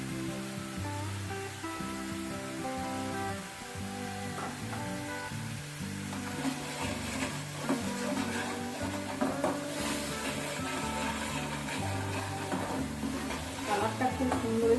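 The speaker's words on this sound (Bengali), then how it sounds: "মশলাটাকে ভালো করে কষাবো" Masala for doi paneer, soaked in oil, fries and is stirred in a pan: a soft, ongoing sizzle with occasional scraping, heard under background music.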